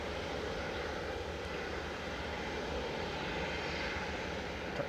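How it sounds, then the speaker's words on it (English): An SAS Airbus A320 Classic in old Scandinavian livery lands at Manchester Airport, heard as a steady, fairly faint broadband engine rumble and rush of air with no voices. "A320 Classic that's coming in the old Scandinavian livery."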